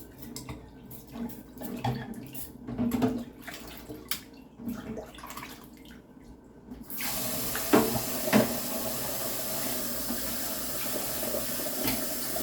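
Tap water runs into a kitchen sink while dishes are rinsed, starting as a softer trickle with occasional clinks, then becoming a loud, steady rushing stream from about halfway on.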